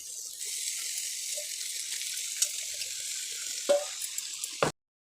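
Prawns tipped into a pan of frying onion-tomato masala and stirred together, a soft steady sizzle with a few sharp clinks and scrapes of a spoon near the end before it cuts off.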